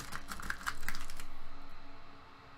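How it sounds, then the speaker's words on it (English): Screws being rummaged through in a container during a Virtual Boy console mod, a quick cluster of light metallic clicks and rattles, quiet and close, fading out after about a second. "Have a look in my big ol' container of"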